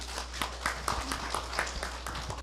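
Audience claps for a team taking its turn to present at a Busan public conflict-management training workshop, with scattered individual claps at a moderate level and a low steady hum behind.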